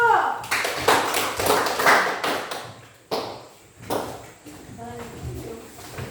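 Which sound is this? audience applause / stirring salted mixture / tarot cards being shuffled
audience applause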